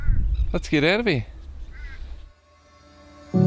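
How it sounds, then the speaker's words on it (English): Bird calls, honking and quacking, sound out close by at a small dam for a moment while a person speaks, then the scene goes quiet. "This little dam here has got a huge amount of bird life."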